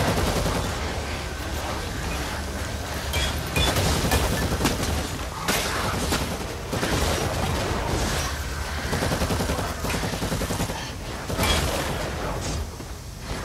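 Dense, nearly continuous gunfire and heavy blasts from a Warhammer 40k Eternal Crusade PvE lair battle, sustained bursts overlapping for the whole stretch with brief dips, loud and close.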